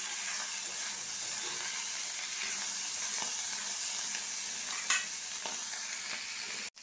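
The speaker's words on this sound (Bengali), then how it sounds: "আমি চিংড়ি মাছগুলো সব ভেজে নেব" Small shrimp frying together in oil, an even steady sizzle that holds for several seconds at moderate level, with one brief clink from a utensil near the end.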